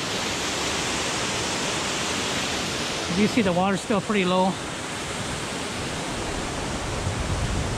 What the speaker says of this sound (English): I'm just right here at the lower waterfall right now.